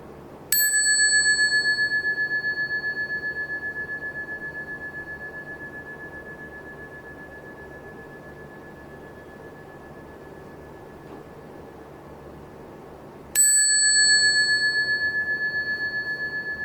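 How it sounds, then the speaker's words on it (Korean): Temple bell struck twice, each strike a bright ringing clang with a long, slowly fading sustained tone in a quiet hall, the second blow coming about thirteen seconds after the first. "금방 우리가 종을 땡 쳤어요"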